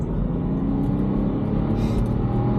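A car accelerates hard toward its 7,000 RPM redline, a steady heavy engine rumble heard from inside the cabin with no talking for a few seconds.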